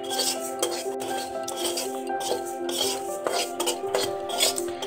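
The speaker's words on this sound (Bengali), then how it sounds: "এটাই শুকনো খোলায় ভেজে নিচ্ছি।" Broken wheat (dalia) is dry roasted in a hot wok, with a spoon scraping and clinking against the metal in a busy, continuous rhythm under kitchen background noise.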